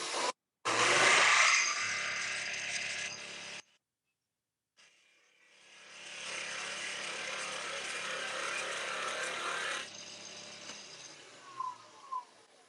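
A lathe tool cuts into spinning wood with a steady, hissing shave, stopping briefly before a second longer cut that fades out.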